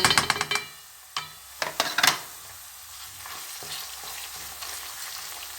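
Tomato paste fries with onions in a pan, a quiet steady sizzle beneath several sharp clinks and scrapes of a utensil stirring against the pan at the start.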